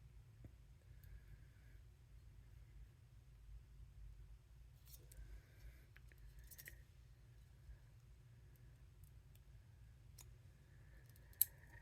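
Scissors snipping Sizzix shrink plastic for handmade charms, a few faint, brief clicks and cuts spread out over a quiet low hum, with one sharper snap near the end.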